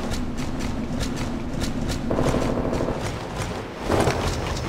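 Gunfire from an SMG-only shooter match, a string of evenly spaced sharp shots over steady game noise, with heavier bursts swelling midway and near the end; no voices.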